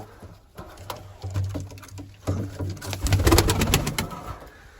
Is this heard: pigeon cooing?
yes